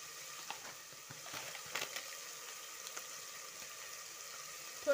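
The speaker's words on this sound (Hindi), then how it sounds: "इन सबको अच्छे से मिक्स कर लेते हैं। ऑयल को साइड्स में आने तक हमें मसाले को अच्छे से भूनना है।" Spices (salt, turmeric, coriander powder) stirred and fried in oil inside a pressure cooker for green vegetable pulao, a soft steady sizzle with faint scraping stirs, quiet and close.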